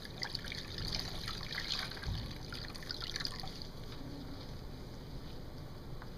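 Clean water runs in a steady, continuous trickle from a tap, a soft even flow with no voices over it.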